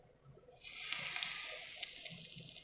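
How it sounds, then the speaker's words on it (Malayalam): Hot coconut oil poured onto a Kerala red chilli chutney sets off a sudden loud hiss that swells within a second and then holds as a steady close sizzle, slowly easing. "നല്ലോണം ചൂടായ വെളിച്ചെണ്ണ ഇതിലേക്ക് ഒഴിച്ചെടുക്കും"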